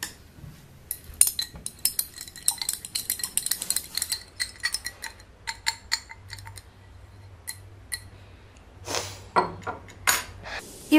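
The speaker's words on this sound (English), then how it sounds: "Now stir the solution well." A sugar solution being stirred in a glass during a potassium permanganate color-change experiment, with rapid light clinks and taps of a utensil against glass, close and fairly clear, pausing and then resuming.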